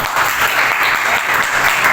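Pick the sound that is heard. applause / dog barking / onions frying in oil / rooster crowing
applause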